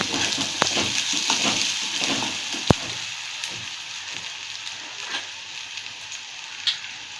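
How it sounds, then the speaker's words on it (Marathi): Bombay duck curry masala with chilli powder fries in a pan on a lowered flame, giving a continuous hissing sizzle with occasional clicks and scrapes as it is stirred, close and fairly loud. "चांगलं हलवून घ्यायचं."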